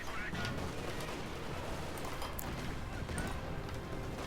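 Katyusha rocket artillery fires in Company of Heroes 2, a dense, sustained roar of launches and blasts that fills the scene continuously, with voices talking over the battle noise.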